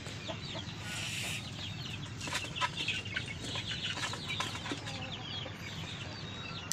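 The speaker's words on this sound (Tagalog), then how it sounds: "So yan yung mga manok." Chickens cluck and call steadily in a muddy coop, a busy layer of fowl sounds close by with soft rustling and occasional wing flaps, no one talking.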